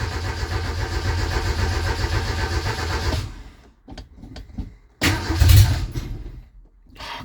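Shay Thunderbird barn-find car with a sticky, freshly fixed choke, its engine running loud and rough, then cutting out before a short burst of cranking and a brief restart.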